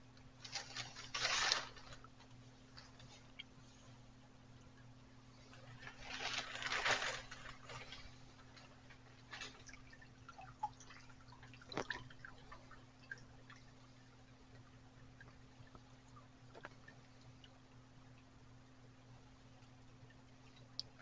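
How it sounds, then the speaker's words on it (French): Melted wax drains and drips during cleaning, a faint, sparse patter of small drips and ticks spread unevenly over a quiet, steady background hum. "Je vais laisser s'égoutter."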